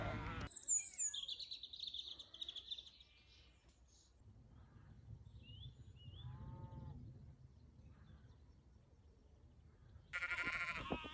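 Sheep and lambs bleat in an open field, several calls near and far spread through the clip over soft wind and outdoor ambience, with a few bird calls high above.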